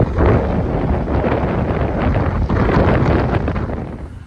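Strong storm wind buffeting a truck, a steady loud roaring gust noise with blustery rumble that holds throughout and eases slightly at the end.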